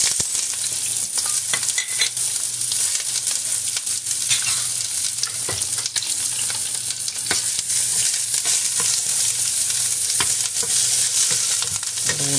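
Onion sautés in hot oil with garlic in a pan, a loud continuous sizzle broken by frequent scraping and clinking stirs, close up and with no talking.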